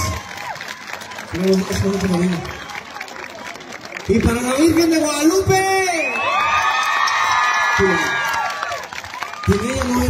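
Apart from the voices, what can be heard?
applause and cheering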